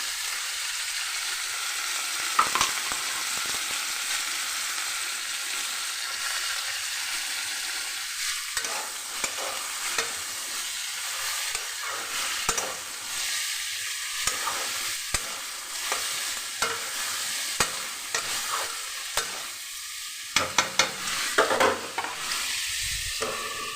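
Fish sizzles in oil in a clay handi while a spoon stirs and scrapes against the pot, producing a steady hiss with irregular clinks and knocks, close and without speech.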